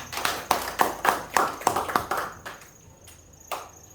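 Rhythmic clapping at a steady beat, around eight sharp claps, then it thins to a few scattered claps.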